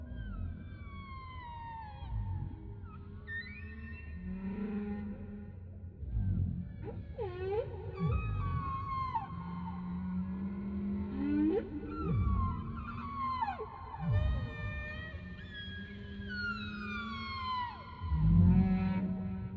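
Humpback whales call in a VR game, a long series of rising and falling moans, whoops and squeals that overlap and echo one another, moderately loud and continuous, with no talking.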